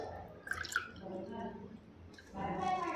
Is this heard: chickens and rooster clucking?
no